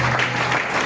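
A church congregation applauding during a French-language service, a dense, steady wash of clapping from many hands that fills the whole brief moment.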